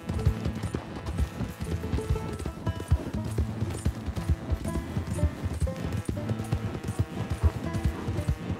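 Horse hooves clip-clop in a steady galloping rhythm in the video game Red Dead Redemption 2, loud and continuous with game music and ambience underneath.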